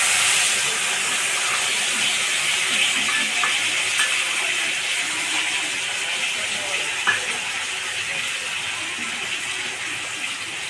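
Chili, ginger and cumin paste sizzling in a hot pan, a steady loud hissing fry that slowly eases off, with a few faint clinks along the way.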